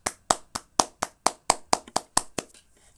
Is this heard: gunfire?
no